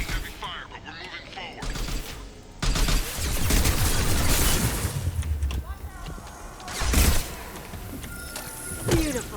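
Heavy gunfire in a firefight in the video game Mass Effect 2: loud, dense bursts of shooting and impacts. A sharp surge comes in near the three-second mark and another just before seven seconds, with voices mixed in.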